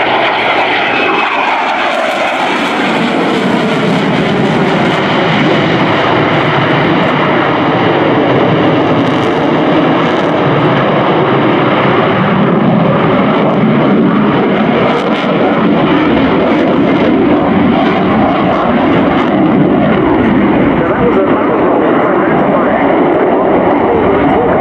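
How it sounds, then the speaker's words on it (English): A Swiss Air Force F/A-18C Hornet jet making a low flying display at an air show, a loud, continuous roar of jet engines sweeping past for the whole stretch, with an announcer speaking over it. "So coming in from the left, the Swiss F-18 Hornet."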